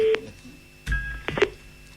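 A phone call is dialled on a prank-call comedy show, with short electronic keypad tones separated by brief gaps, a clunk, and faint line hum. Nothing is said.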